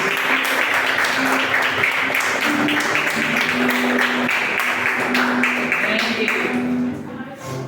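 A church congregation applauds steadily and loudly for several seconds, dense clapping filling the room with a sustained tone and voices underneath, tapering slightly toward the end.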